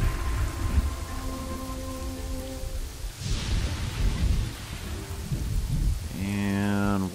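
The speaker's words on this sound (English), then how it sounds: "196 people, and we've got us a thunderstorm." A thunderstorm in the castle-building game Kingdoms and Castles brings steady rain hissing across the scene, a low rumble of thunder rolling through the middle, and tonal game music underneath.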